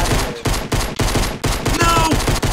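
Rapid bursts of automatic gunfire in Fortnite, loud and close, coming in several clipped volleys separated by brief gaps.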